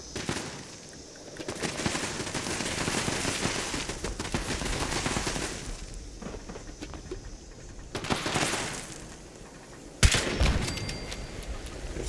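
Automated turrets fire in the Fallout 76 game in long rattling machine-gun bursts that swell and pause, with a sharp louder shot near the end, moderately distant, with no voices.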